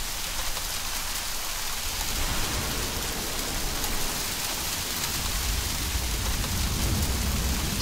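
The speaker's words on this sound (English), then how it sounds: "It's either just raining very heavily or hailing." Heavy rain or hail pours steadily in Middle-earth: Shadow of Mordor, a dense, continuous hiss of drops hammering surfaces with a low rumble beneath, loud and unbroken throughout.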